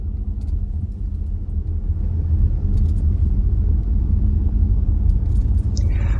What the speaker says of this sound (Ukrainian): їздять ось такі гарні автобуси.